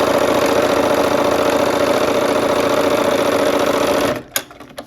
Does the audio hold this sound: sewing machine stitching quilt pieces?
yes